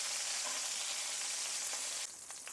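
Food fries in a pan, a dense, steady hiss and crackle of sizzling oil close by that drops slightly in level near the end, with no voices.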